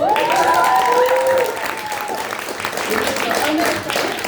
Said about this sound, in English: Can we get a bit of a round of applause?